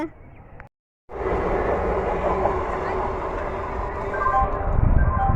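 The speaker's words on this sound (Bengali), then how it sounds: "ট্রেন চলে গেল তো দাঁড়ালো না তো" A train rumbles past close by, a steady loud roar of wheels and engine lasting several seconds after a brief silence, with faint voices at the start.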